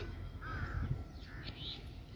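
Crows caw in a large flock, a few clear calls ringing out over a low, rumbling outdoor background.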